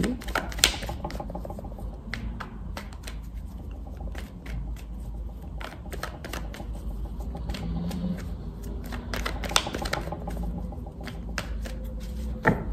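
Tarot cards being shuffled by hand in a quiet room, a steady run of soft riffling and tapping clicks, close and fairly loud with no talking.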